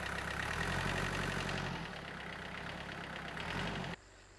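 A tractor bus in a Korean farming village idles with a steady mid-to-low engine chug and faint knocking, then drops off sharply near the end, with no voices heard.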